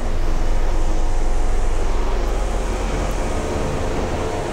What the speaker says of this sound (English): Now there's an airplane.